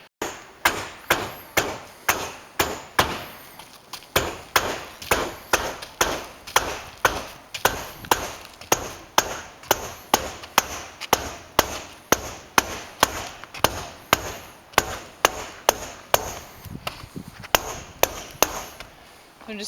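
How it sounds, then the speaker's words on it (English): Close, sharp hammer taps fall on metal roofing sheets being set into place during house building. The blows come in a fairly regular rhythm, roughly two per second, each a crisp clack with a short decay, and no one speaks. "I'm just getting it lightly tapped down and into place."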